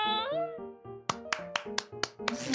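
Classmates in an animated story clap, giving a run of six sharp, evenly spaced claps after a sustained musical or voiced tone, close and fairly faint overall.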